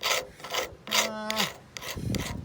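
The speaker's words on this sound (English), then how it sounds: "Let's try a slightly better scraper." A scraper rasps against old paint on a cast-iron K6 red telephone box in short, close scraping strokes, with one brief tonal squeal in the middle.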